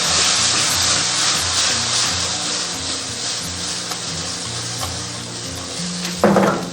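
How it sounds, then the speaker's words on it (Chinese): Chives and pork kidney stir-fried with sauce in a wok over high heat give a loud, continuous sizzle, with a steady low hum underneath and a sudden clatter of the spatula against the wok near the end. "大火翻炒10秒"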